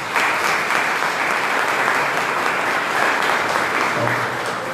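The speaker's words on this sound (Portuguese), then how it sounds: "para toda esta equipe, uma salva de palmas." Dense, steady applause from an audience fills a seminary rectorate installation ceremony in a diocese, sustained at an even level throughout with no talk over it.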